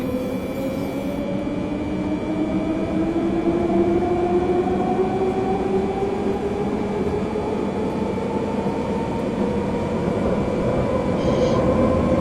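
A BR420 electric train on the Munich–Augsburg route in Train Simulator 2015 runs at speed, its motor whine rising slowly in pitch over a steady rolling rumble, loud and continuous.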